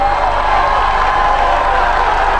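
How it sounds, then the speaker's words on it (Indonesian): Supporters of the candidate pairs applaud at the close of a 2017 Jakarta gubernatorial debate session: loud, continuous crowd clapping mixed with cheers that forms an unbroken wash of sound. "silahkan kalau dari para pendukung pasangan calon kita boleh tepuk tangan"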